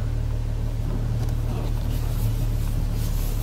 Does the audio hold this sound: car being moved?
yes